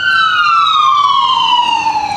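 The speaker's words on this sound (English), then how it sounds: "There's that ambulance again." An ambulance siren wails loudly and steadily outside, its falling tone gliding smoothly downward as it passes by, with no one talking.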